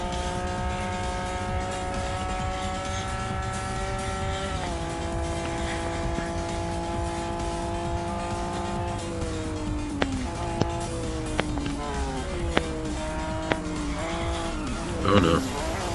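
A race car in the retro racing video game Retro Rivals drives through a turn, its synthesized engine whining and shifting pitch while tires squeal and skid in short bursts near the end, loud and continuous.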